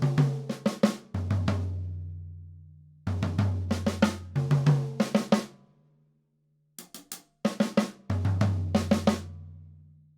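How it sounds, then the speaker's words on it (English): Sixteenth-note drum fills move around a drum kit across toms and other drums, heard as quick bursts of close hits over ringing low toms, repeated in several variations with brief pauses and no talking. "Or if we moved it around the drums a couple different ways."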